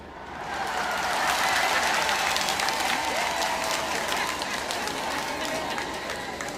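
Crowd at a Tanzanian public address applauding steadily, with bright ululation cries rising over the clapping, loud and sustained throughout.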